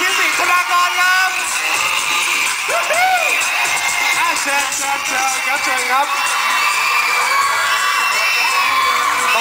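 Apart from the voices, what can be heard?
fans screaming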